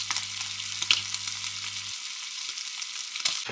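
Strips of bacon fry in a pan with a steady broadband crackle and sizzle, a low hum underneath that drops out partway, and a few sharper pops and spatters near the start and end.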